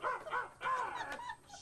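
A dog barks and yips a few times from a television in a home, short close-spaced yelps under faint background.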